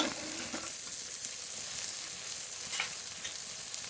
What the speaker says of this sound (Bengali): এবার বাকি মশলাগুলো দিয়ে দেবো আদা বাটা রসুন বাটা কাঁচা লঙ্কা বাটা